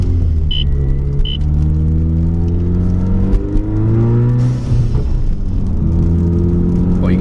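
Loud, close droning exhaust of an EcoBoost Mustang running a muffler delete and catless downpipe, steady deep rumble with rising and falling revs and no voices.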